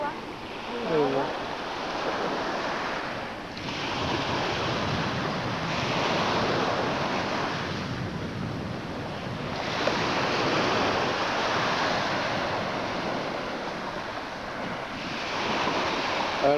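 Mediterranean sea waves wash steadily onto Marbella beach on an overcast early morning, a continuous broad surf roar with slow swells and breaking rushes, mixed with some wind buffeting.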